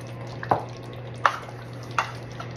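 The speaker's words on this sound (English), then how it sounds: "once we stir the sour cream in" A spoon stirs sour cream into meatball stroganoff in a pan over low heat, giving three soft, evenly spaced scrapes over a low steady hum.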